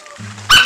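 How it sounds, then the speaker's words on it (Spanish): A single sharp dog bark rings out close by after a brief low hum, short and loud. "El perro está bravo conmigo."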